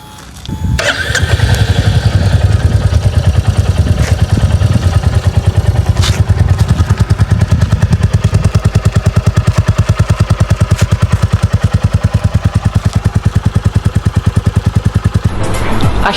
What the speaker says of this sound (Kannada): ಇದ್ರ ಎಕ್ಸಾಸ್ಟ್ ನೋಟ್ ಕೇಳ್ಕೊಳ್ವಾ ಹೇಗಿದೆ ಅಂತ